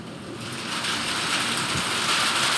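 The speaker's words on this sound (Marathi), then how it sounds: "जुन्नर तालुक्यात गारांचा पाऊस बरसतोय" Hail falls with rain during a storm in Junnar taluka, a dense, steady hiss of pelting drops that builds slightly and holds, loud and continuous with no voices.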